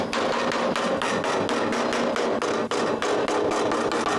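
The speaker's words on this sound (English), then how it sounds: "I like to hammer the staples down" Rapid, evenly spaced hammer strikes driving down staples on a homemade acoustic panel, loud and close, tapping in a steady rhythm for several seconds.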